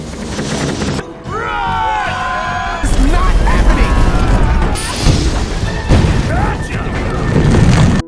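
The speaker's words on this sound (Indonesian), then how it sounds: "bola es jatuh kembali ke meriam es dan meledakkan seluruh Pulau Elang" An animated ice ball crashes back into an ice cannon and blows up Eagle Island: loud booming blasts and smashing crashes amid chaotic cartoon effects and squealing tones, with several heavy impacts across the scene.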